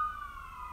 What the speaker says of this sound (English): where are the sirens going? There must be a fire somewhere.